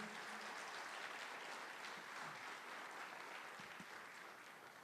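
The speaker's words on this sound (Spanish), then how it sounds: "Dale ese aplauso a Jesús." A church congregation applauds during a sermon, a steady wash of many hands clapping together that holds evenly and fades slightly toward the end, heard quietly and from a distance.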